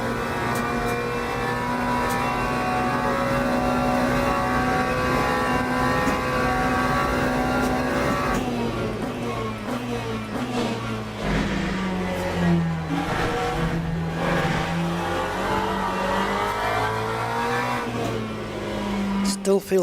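A race car engine in the Le Mans Ultimate racing game drones steadily with rising and falling revs and gear changes, loud and continuous throughout.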